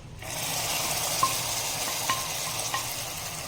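Hot melted sugar poured into simmering rice kheer in a pot, a sudden steady hiss and sizzle with a few faint clinks of stirring, close by.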